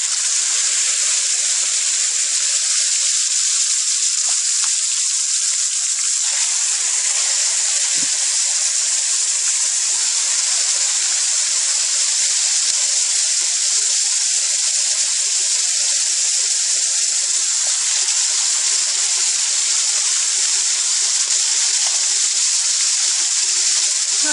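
Steady, loud hiss and crackle of pork belly frying in hot oil in a pan, continuous throughout with no talking.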